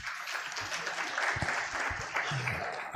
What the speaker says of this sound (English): Another round of applause to our regulator